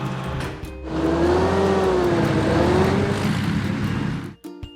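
A mobile video game car engine drones and revs in a steady rising and falling whine, loud and close, then cuts off abruptly near the end before a brief short tone.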